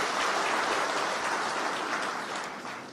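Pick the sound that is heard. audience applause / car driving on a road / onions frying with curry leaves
audience applause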